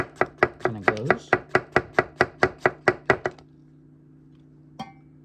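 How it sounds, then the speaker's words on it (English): A Tsunehisa 175mm Bunka knife chops rapidly on a board, about a dozen crisp, evenly spaced close knocks over three seconds, then quiet with a single faint tap later. "Just slowly moving down the knife here so you can see how it"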